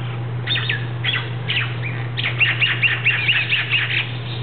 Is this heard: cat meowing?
no